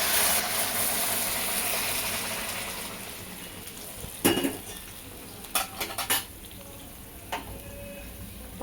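Water heating in a pan on a gas stove for Maggi noodles gives a soft hiss that fades over several seconds, followed by a few sharp metallic clinks of utensils against the pan.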